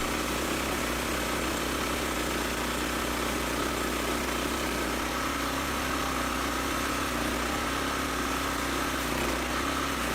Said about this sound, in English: Enter the Woodmizer LX25. A powerful yet compact portable sawmill that turns large logs into valuable lumber right on site.